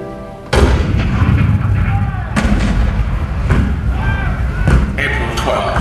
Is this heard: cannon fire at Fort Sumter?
yes